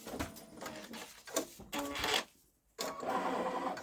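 A Babylock Solaris 3 embroidery machine stitching satin fill chatters in a fast, steady mechanical rhythm, with a brief pause midway before it resumes, close and quite quiet.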